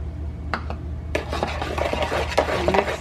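Vanilla being stirred into cake batter in a bowl for apple cinnamon bread, with close, steady scraping and clinking of a utensil against the bowl and a few sharper knocks.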